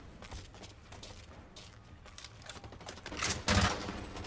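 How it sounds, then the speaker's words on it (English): Burst-fire gun in the shooter game Blacklight Retribution fires rapid clusters of sharp shots, building in density toward a loud dense barrage near the end, with no voices. "Yeah, it's a burst fire."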